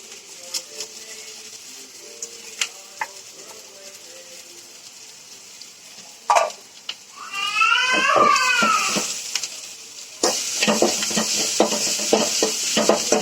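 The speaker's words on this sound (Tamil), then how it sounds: "கொஞ்சமா வதக்கிக்கலாம் லைட்டா எண்ணெயில." Ground coconut, green chili and cumin are sautéed in oil for a cluster beans stir-fry, with scattered clinks and scraping of stirring giving way to a steady, moderate sizzle over the final few seconds.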